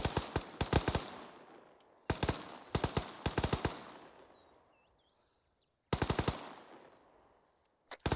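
Machine gun fire from the Arma 3 video game rips out in several short rapid bursts separated by pauses, each volley loud and sharp with a rolling echo trailing off behind.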